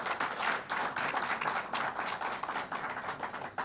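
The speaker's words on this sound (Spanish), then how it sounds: "Así que quisiera darle un aplauso que se encuentran aquí presentes." Audience at a copper workers' federation anniversary ceremony breaks into applause, a lively uneven patter of many hands with audible individual claps, fairly close and sustained.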